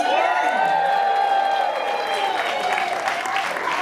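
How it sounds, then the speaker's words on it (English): An audience at a mock beauty pageant claps and lets out hoots and hollers, loud and continuous, with whooping voices rising over the clapping throughout. "this is your chance to practice your hoots, your hollers, and your clapping"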